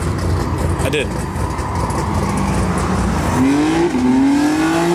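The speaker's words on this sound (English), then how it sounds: "No, this is just like rev it right here" A tuned BMW M3 engine roars loudly inside the car, its pitch climbing through revs with a short dip and rise near the end, while people shout and talk over it.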